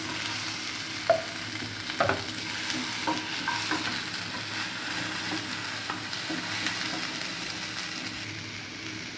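Masala with curry leaves and two tomatoes fries in a pan for country chicken kuzhambu, a low steady sizzle broken by scraping stirs and a few sharp clinks, with no voices.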